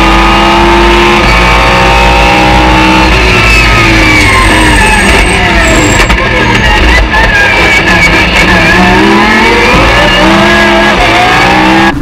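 Racing engines scream and rev on a race track in a motorcycle racing setting, loud and continuous with rising and falling pitch, several machines overlapping, with a brief tire squeal and a distant shout.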